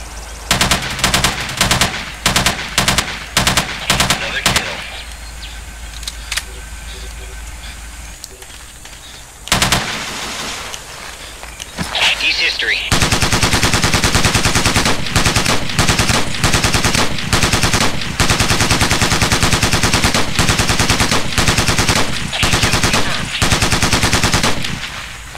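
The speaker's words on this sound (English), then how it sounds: "I'm laying out suppressive fire." Sustained suppressive automatic gunfire in Ghost Recon, with loud clipped bursts early, a quieter stretch, then long continuous rattling fire packed with rapid shots for the rest of the clip.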